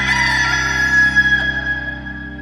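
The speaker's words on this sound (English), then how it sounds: "Just then, a rooster crowed." A rooster crows loudly and close by, one long drawn-out call that fades slowly over about two seconds.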